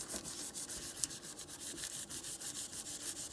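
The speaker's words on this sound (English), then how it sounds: "I'm burnishing it some more, which means it's going to be stuck to both papers." Polymer clay veneer being burnished against paper, a steady dry rubbing that repeats in quick, even strokes close by, with no talking.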